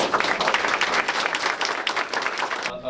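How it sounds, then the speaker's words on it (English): Hearty audience applause at an esports center ribbon cutting, a loud, dense roar of clapping that fills the whole stretch before cutting off abruptly. "would you please join me in a hearty round of applause?"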